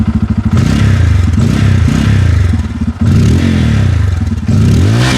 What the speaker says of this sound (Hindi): अब हमने इसका एग्जॉस्ट नोट सुनते हैं कैसा है, ऑन करते हैं